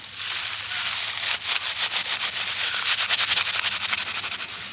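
Bark is rubbed between the hands to break it into tinder, a loud close scratchy rasping that settles into quick rhythmic strokes and speeds up toward the end.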